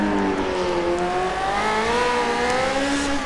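A 1960s race car in Project CARS revs continuously, its engine note rising and falling in smooth sweeps, loud and close with no voices over it.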